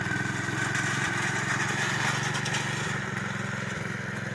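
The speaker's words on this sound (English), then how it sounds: "The engine's giving me issues." The engine of the Blue Shadow, a vehicle with engine trouble, runs steadily with a buzzing, chugging mid-pitched drone that stays close and even throughout.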